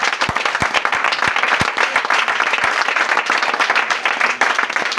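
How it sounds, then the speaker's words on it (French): A church congregation applauds together, a dense, continuous roar of many hands clapping with a few sharper individual claps standing out at the start. "acclame Jésus"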